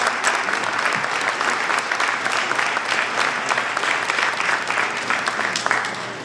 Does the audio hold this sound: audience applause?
yes